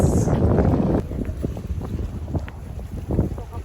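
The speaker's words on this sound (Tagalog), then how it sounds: "Super mahangin po." Gusty wind buffets the microphone in loud, rumbling bursts at a port on Boracay, Philippines, with low broadband roar throughout and brief dips between gusts.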